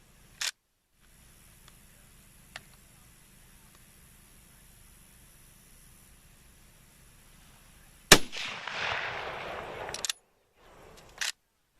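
A Swiss Schmidt Rubin 1911 carbine fires one sharp report after a quiet stretch, followed by a burst of hissing noise and a further short crack, with faint clicks earlier.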